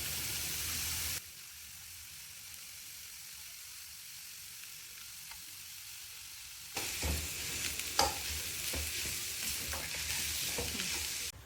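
Chopped shallots sizzle in a hot pan for a spicy prawn roast. A steady frying hiss drops quieter after a second, then swells again with close stirring scrapes and clinks, with no talk.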